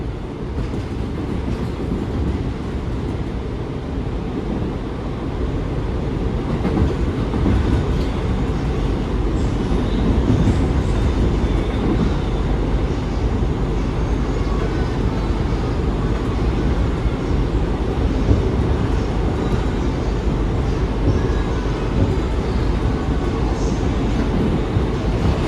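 An R179 subway car on the S line runs toward Rockaway Blvd, a continuous loud interior rumble with rail roar and faint clickety-clack rising slightly after the first few seconds.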